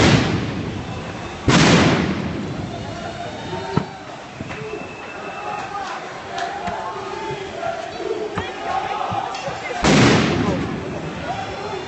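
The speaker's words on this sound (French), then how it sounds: "juste des pétards, des grenades assourdissantes" Firecrackers and stun grenades go off at an outdoor antifascist protest march, with three loud, sharp blasts and a smaller crack amid a constant murmur of the crowd.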